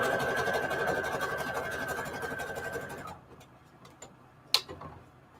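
A sewing machine runs a zigzag and straight stitch through a vintage junk journal cover bonded with Ultra Bond. Rapid ticking stitches continue for about three seconds, then stop, followed by a quieter pause and a single sharp click.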